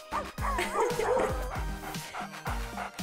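A small dog whimpers and yips in quick, high repeated bursts with sharp barks, close and loud.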